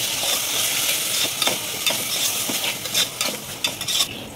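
A spoon stirs soya biryani in a pot, with repeated scraping and clinking against the metal and a steady sizzle underneath, close and alone with no talk.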